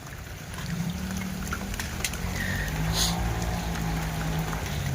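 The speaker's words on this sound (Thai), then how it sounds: "ฝนด้วย" Steady rain at a fishing pond patters and hisses across the whole stretch, a dense wash of drops falling on surfaces, moderately loud and continuous.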